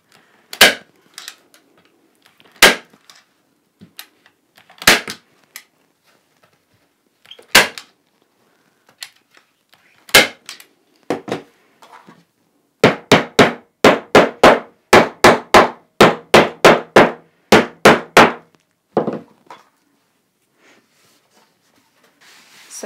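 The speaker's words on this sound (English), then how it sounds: "so I'm gonna pull this up and staple it in place" A staple gun fires sharp, loud snaps while fixing a fabric cover onto a quilter's pressing board, scattered at first, then a fast run of about a dozen shots in quick succession, with quieter handling noises between.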